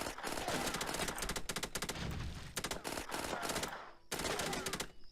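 Rapid gunfire bursts in the video game Shadow Company: Left for Dead, dense overlapping automatic fire in repeated volleys with short gaps, loud and close.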